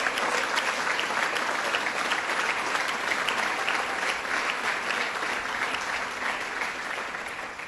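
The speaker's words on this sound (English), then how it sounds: "give the New York State Assembly a big round of applause" Sustained applause from an audience honoring the New York State Assembly at an awards event, a dense steady clapping that fills the whole stretch at an even level.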